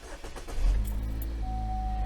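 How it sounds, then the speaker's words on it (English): Engine of a Chevy Equinox SUV starting: a short cranking rattle, then it catches into a steady low idle rumble with a faint whine, close and alone. "I'm going to start the engine."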